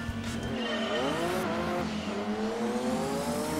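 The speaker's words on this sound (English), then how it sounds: "let's see what the CTR2 Sport can do on track" Porsche CTR2 Sport race car in Gran Turismo 2 on a track, its engine held at a loud, steady whine with rising and falling pitch as gears shift, joined by tire squeal, continuous and close with no talking.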